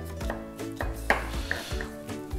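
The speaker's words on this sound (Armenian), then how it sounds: "Այսենց մանր-մանր պետք է կտրենք" A knife chops food finely on a board, making about seven or eight close, sharp thuds at a steady, unhurried pace, with faint clinks of kitchenware and no talking.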